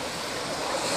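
Ocean waves wash in at night by the sea near Cape May, a steady broadband roar of surf with some wind, continuous and fairly close for the whole second.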